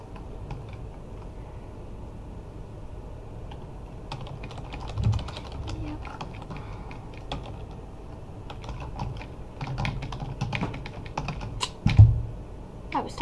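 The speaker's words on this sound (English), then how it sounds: "I was typing." Typing on a computer keyboard during a Minecraft Skywars game: quiet, irregular bursts of key clicks spread across the whole stretch over a low background hum, with a louder knock near the end.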